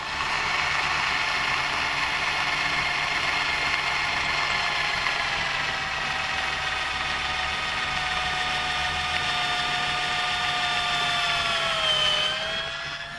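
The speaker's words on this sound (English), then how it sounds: "We drill a couple of holes." A cordless drill bores holes into large loose floor tiles for a tile repair, a sustained loud whining buzz with steady overtones that sag in pitch near the end as the battery runs out and the motor slows.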